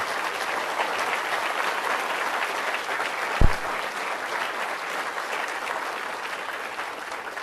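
A large audience applauds steadily after a software developer conference talk on building neural networks in Visual Studio, a dense continuous wash of clapping with one sharp thump partway through.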